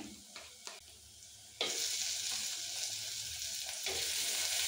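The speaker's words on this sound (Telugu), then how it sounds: "ఇప్పుడు ఇందులో అల్లం పేస్ట్ వేస్తున్నా" Ginger paste dropped into hot oil in a clay pot for chicken biryani starts a loud sudden sizzle partway through, after quieter stirring and clinks, then keeps frying steadily.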